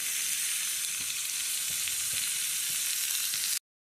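Tomatoes and freshly picked mint with tender stems sizzle steadily in a pan for a masala curry, a continuous loud frying hiss with a few soft stirring knocks, cutting off abruptly near the end.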